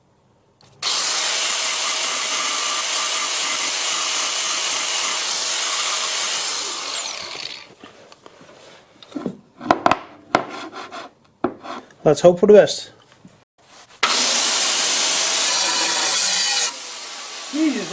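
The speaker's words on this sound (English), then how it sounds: "I think I will touch it up with the angle grinder." A harsh, high-pitched angle grinder whines steadily on aluminium for several seconds, touching up a boring bar, stops amid clattering handling noises and a brief voice, then grinds again.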